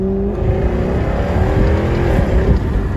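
A Jaguar F-Type R's exhaust opens up as it merges onto a highway, a loud, steady, close engine roar with rising revs heard from inside the car, without talk.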